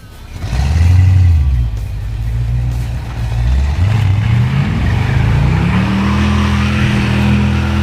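Supercharged Jaguar-based rat rod roars loudly up close, engine revving and climbing in pitch over several seconds as in a burnout, with no talk over it.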